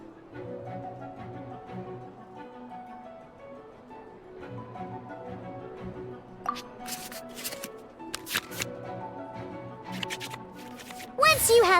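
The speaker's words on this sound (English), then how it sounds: "we can select any number of cards in our hand to shuffle back into the draw pile, and then draw the same number of new cards" Cards from a hand shuffled back into the draw pile in the Genshin Impact card game, with soft papery shuffles and light clicks rising over steady background music.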